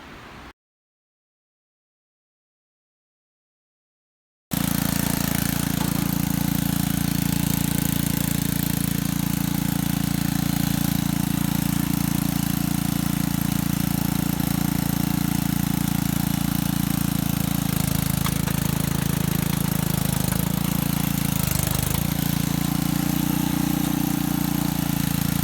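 A cheap homemade racing lawn mower's engine starts after a brief silence and then runs loudly and steadily nearby for about twenty seconds, its note dipping briefly near the end.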